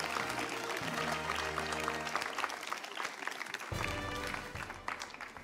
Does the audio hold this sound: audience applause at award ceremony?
yes